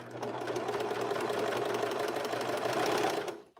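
A serger sewing machine runs steadily while stitching a circular pant hem, a close, even, rapid mechanical whir at moderate speed lasting a few seconds before stopping abruptly.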